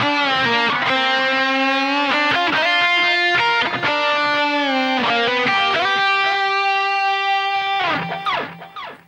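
Distorted electric guitar plays a lead slowly, sustained, buzzing bent notes and short runs, loud and up close, with no voice.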